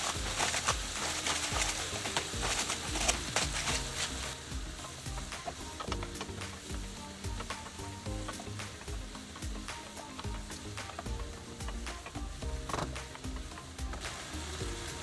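Cream of mushroom soup is stirred in a pot after the salt goes in, giving a continuous close scraping and bubbling sizzle with soft irregular clicks.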